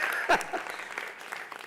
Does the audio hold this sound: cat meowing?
no